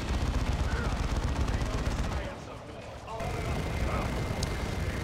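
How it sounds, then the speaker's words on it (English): A Space Marine assault cannon barrage from Dawn of War II rattles in rapid continuous bursts, dense and loud, with a brief lull in the middle, while a commentator talks over the battle. "Another Assault Cannon Barrage goes in."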